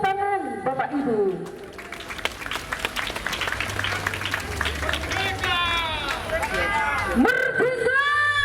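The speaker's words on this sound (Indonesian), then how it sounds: "Tepuk tangan Bapak Ibu." A crowd claps and cheers at a village carnival celebrating Indonesia's 80th Independence Day, with dense applause mixed with voices, music-like tones and bustling festival noise throughout.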